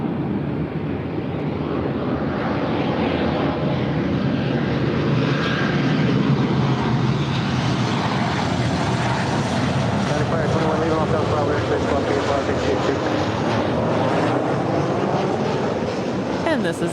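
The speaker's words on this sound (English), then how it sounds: "And this is Delta Airlines 1250 coming in from Seattle." Delta Airlines flight 1250, a Boeing 737-900ER in from Seattle, arrives at LAX with a loud, continuous jet rumble that swells and shifts in pitch as it passes. Voices talk faintly underneath.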